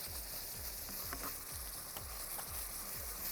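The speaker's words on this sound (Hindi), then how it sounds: "ये शामिल करके इन मसालों को आप प्याज के साथ अच्छी तरह से भून लेंगे" Spices and onion sizzle and fry steadily in a pan for a baisan khandwiyan salan, with a constant crackling hiss and repeated soft stirring scrapes, and no voices.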